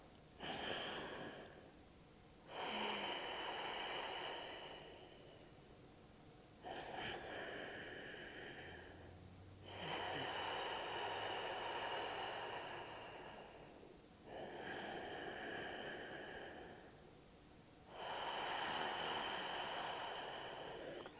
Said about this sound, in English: We're going to start in our mountain and focus on your Ujjayi breath.